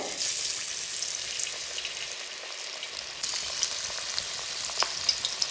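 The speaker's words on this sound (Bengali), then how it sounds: "ব্যাটারটা একটু হালকা হাতে ঝরিয়ে নিয়ে গরম তেলের মধ্যে দিয়ে দেব।" Batter-coated pointed gourd slices frying in hot oil give a steady, bright crackling sizzle that swells when a piece drops in, close and continuous with no voices.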